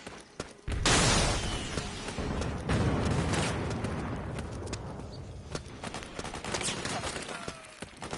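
Heavy gunfire erupts in the Metal Gear Solid 4 video game, a sudden loud burst followed by sustained volleys and scattered sharp cracks that gradually thin out.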